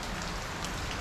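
Rain falls steadily at an outdoor monsoon camp, a dense, even hiss of drops on surfaces, close and unbroken with no voices.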